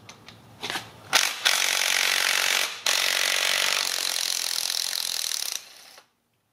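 Power tool whirring steadily on an idler pulley bolt of a Jeep Cherokee Compass serpentine belt system, a loud continuous run of several seconds after a few short clicks and bursts, with a brief pause midway.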